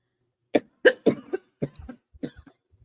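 A man coughs repeatedly at close range, a burst of about six or seven short, harsh coughs in an uneven rhythm, alone in a quiet room.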